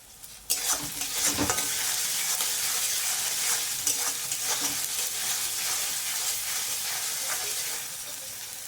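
Lotte fish and potato curry being stirred in a hot pan, a loud steady sizzle and hiss with a sharp clatter as stirring starts, then repeated scraping strokes of the spoon throughout, easing slightly toward the end.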